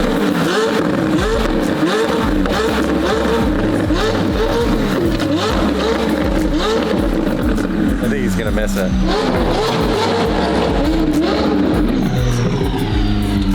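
A race car engine revs loudly and steadily throughout, its rising and falling pitch sweeping close by, while people talk over it.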